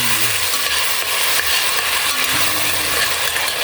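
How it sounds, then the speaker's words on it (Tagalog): Tomatoes sautéing in a pan for a mung bean and vegetable dish, a loud continuous close sizzle with light scraping and stirring clicks throughout. "Igisa lang natin yung ating kamatis, guys, ng mga 2 minutes guys."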